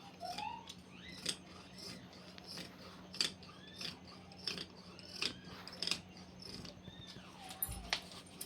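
Scissors cut blouse fabric along marked lines in a quiet room, with a series of soft, separate snips and rasping slides. They are close but faint, and a low steady hum sits underneath.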